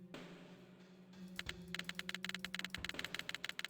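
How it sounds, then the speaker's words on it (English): A computer keyboard clicks in a quick, quiet burst of rapid keystrokes, preceded by a faint low hum. "What a lovely clicking sound."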